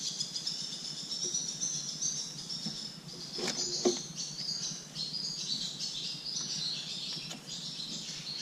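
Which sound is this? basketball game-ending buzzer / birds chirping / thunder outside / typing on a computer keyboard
birds chirping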